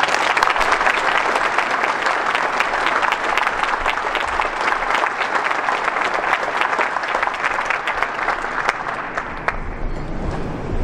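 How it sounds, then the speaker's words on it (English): An audience at a business event applauds to thank the Premier of Ontario, Kathleen Wynne. The dense clapping from a large crowd stays loud and steady for about ten seconds and thins slightly toward the end. "please join me in a big round of applause to thank our 25th Premier, the Honourable Kathleen Wynne,"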